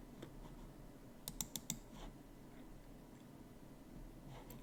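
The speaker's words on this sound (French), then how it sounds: "je vais cliquer sur Classeur Excel." A few quick computer mouse clicks at close range, a tight cluster of sharp taps in a quiet room while working in Power BI on a computer.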